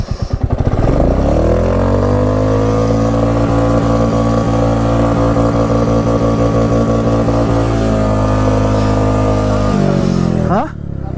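A motorcycle with a worn clutch plate, climbing the road toward Sandakphu, revs loudly and close, its engine building from rapid low pulses into a sustained roar and then easing off at the end.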